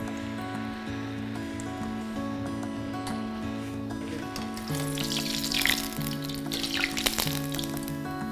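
Yam (suran) vada batter dropped into hot oil starts frying, a broad steady sizzle that swells louder midway with crackling bursts, heard up close over faint background music.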